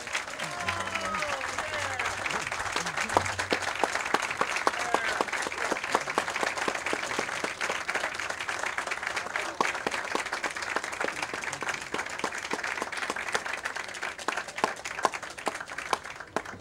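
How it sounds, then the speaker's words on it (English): Sustained applause from a convocation audience at a university anniversary ceremony, steady clapping mixed with crowd noise and some voices in the background throughout. "I now ask that this audience salute you with a warm round of applause."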